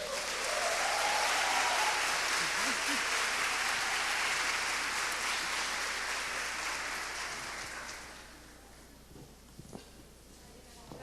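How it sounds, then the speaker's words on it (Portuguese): Loud, sustained applause from a conference audience at a women's entrepreneurship forum, a dense steady clapping that fades out after about eight seconds, with some talk at the end. "Uma salva de palmas bem fortes para Ana Paula Padrão."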